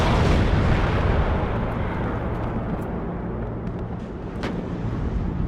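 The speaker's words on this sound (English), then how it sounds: "Back up, and just fire that mortar" Mortar fire in the military strategy video game WARNO, a dense, loud wash of booming blasts and rumbling impacts that rolls on continuously with faint sharper cracks near the end.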